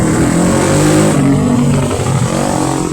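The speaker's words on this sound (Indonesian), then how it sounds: "Alah, maaf suara knalpot" A motorcycle engine revs loudly and close by, its exhaust roaring steadily with small rises and falls in pitch.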